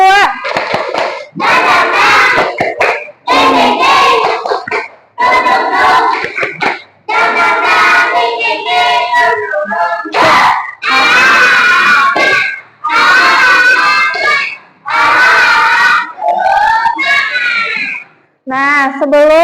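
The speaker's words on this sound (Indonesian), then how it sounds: "Sekarang tepuk semangat 2." Classroom of students performing the second spirit clap routine: repeated loud bursts of group chanting and clapping in a steady call-and-response rhythm, separated by short pauses, with a teacher's voice between.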